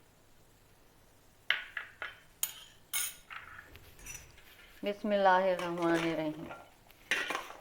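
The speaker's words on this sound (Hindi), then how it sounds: "हमने अच्छे से चाट को मिक्स कर लेना है।" A spoon clinks and scrapes against a bowl while mixing chana chaat, a few sharp clinks at the start followed by more mixing, with a voice speaking partway through.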